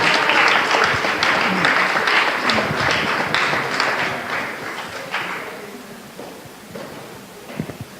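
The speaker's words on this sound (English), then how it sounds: "let's give another round of applause for Matt" Audience applause at a California ecosystems restoration council event, loud and dense at first, then gradually thinning and fading over several seconds as scattered claps trail off.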